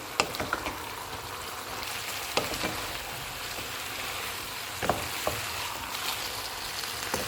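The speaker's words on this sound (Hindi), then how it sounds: "अब इसमें हम ग्रीन प्याज का ग्रीन वाला पार्ट डाल देंगे, फ्राई किया हुआ चिकन, और इनको मिक्स कर देंगे" Fried chicken and green onion tops being stirred into fried rice in a hot pan, giving a steady close sizzle broken by a few sharp scraping clicks of the spatula, with no talking.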